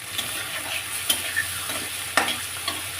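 Soaked cumin and chilli powder paste fries in a pan, a close, loud sizzle punctuated by several distinct stirring scrapes and clacks of a spatula against the metal.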